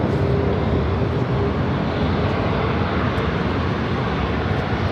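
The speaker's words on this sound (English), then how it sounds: "Got that Avianca A320 Neo as the next takeoff on 24 left." An Avianca Airbus A320neo taking off from runway 24 left, a steady loud broadband roar of jet engines at full thrust, continuous throughout without distinct peaks.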